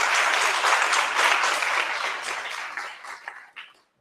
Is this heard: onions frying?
no